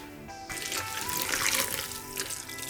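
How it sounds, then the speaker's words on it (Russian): Water pours in a steady, fairly loud stream onto snow in a mixer for slime-making after a short quiet start, splashing continuously with no voices. "разбавляем водой"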